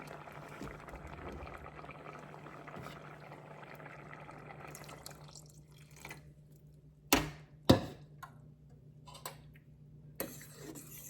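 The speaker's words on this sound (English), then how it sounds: "And now to this, I'm going to be adding 2 cups of water." Water pours steadily into a pot of pumpkin and coconut milk for several seconds, then stops, followed by a few sharp knocks and faint clinks.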